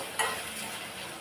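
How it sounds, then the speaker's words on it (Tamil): Tomatoes and onions sauté in a pan for a village-style dry fish curry, a soft, steady sizzle with a brief stir or clink near the start. "இது வந்து ஒரு 3 நிமிஷத்துக்கு நல்லா வதங்கட்டும்."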